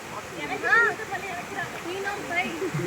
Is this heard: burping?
no